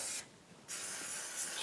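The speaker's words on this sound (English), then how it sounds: "Just spray it down" Two bursts of hissing spray from an aerosol can of cleaner, a short one then a longer steady one after a brief pause, close and fairly soft.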